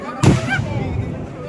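A single firework burst at the Thrissur Pooram festival, a sharp loud bang followed by a rumbling, crackling tail that fades into a noisy outdoor crowd.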